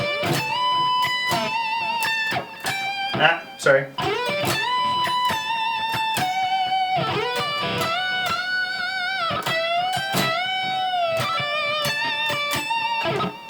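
Electric guitar solo phrase, played with string bends and a sustained, singing tone over a steady rhythmic backing. A brief spoken word cuts in midway.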